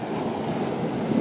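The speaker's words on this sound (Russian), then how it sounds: "Такие вот волны, такие вот шикарные бьют" Storm waves breaking against the embankment at Sudak, a steady broadband wash of surf with wind, moderately loud and unbroken for the whole short stretch, no voices.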